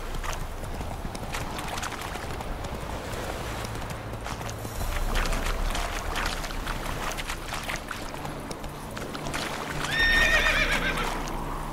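Roach, the horse in The Witcher 3 video game, neighs near the end over a steady run of galloping hooves and ambient game noise.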